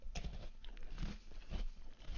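Crunchy, hollow snack from Singapore or Taipei bitten and chewed close up, a few loud crisp crunches spread over about two seconds with no talk.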